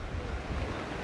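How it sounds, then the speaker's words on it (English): Strong coastal wind at Minehead, a steady, close, full-bodied buffeting rush with low rumbles, like gusts hitting the microphone. "it is windy today, it's really picking up"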